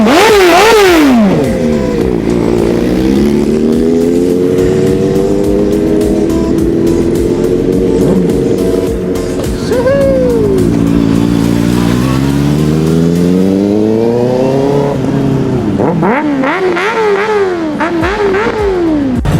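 A Porsche sports car engine roars loudly and up close, with its pitch swelling and dipping across long rising revs, then sharp blips near the end. No one speaks.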